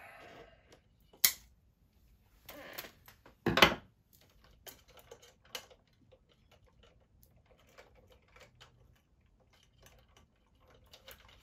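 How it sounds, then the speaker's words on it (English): Zip ties ratcheting tight while guitar pedalboard cables are wired, heard as sparse, quiet clicking ticks with a couple of louder bursts near the start over a faint background. "Zip tie those."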